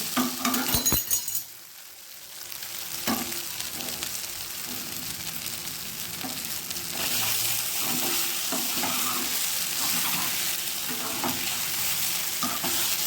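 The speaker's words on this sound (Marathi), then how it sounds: "त्याला असंच हलवायचं थोडा वेळ आपण पण थोडं हलवून घ्यायचं त्याला" Soybeans stirred in a hot pan, a steady sizzle with a few light clinks of the spoon against the metal, the frying growing louder partway through, close by with no talking.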